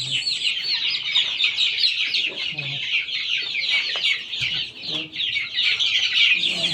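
Native chicken chicks, weak after a long journey without food or water, cheep continuously in a dense high-pitched chorus, close and steady, with a faint voice now and then underneath.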